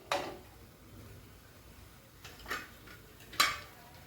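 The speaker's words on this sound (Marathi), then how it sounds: "त्यामध्ये मी हा डबा ठेवते" A steel container is set inside a pressure cooker holding water, making three short metallic clinks spaced apart over a quiet background.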